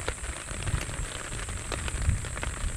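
Rain falls on the African plains as a steady patter of drops on nearby surfaces, with scattered sharper taps over a soft continuous hiss.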